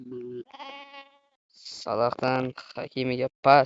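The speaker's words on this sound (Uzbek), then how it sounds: "Orqada biroz qo'ylar ovozi kelsa uzr so'rayman." Sheep bleat in the background, a wavering animal cry near the start, while someone talks over it for the rest.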